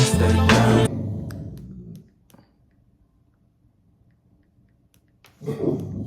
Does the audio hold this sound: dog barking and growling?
yes